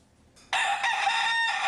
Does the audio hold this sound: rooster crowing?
yes